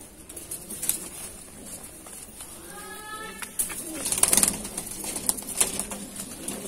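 Madrasi pigeons, a female among them, in a loft giving soft cooing calls, including one clear rolling coo midway, amid wing flutters and scattered clicks, close but fairly quiet.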